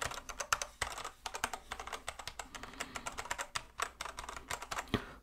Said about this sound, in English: So the sound of the keys are really good